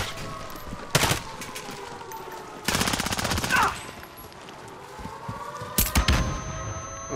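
Gunfire bursts in Call of Duty: Modern Warfare, with rapid automatic volleys near 1 s, 2.7–3.6 s and 5.8–6 s over a steady game soundscape.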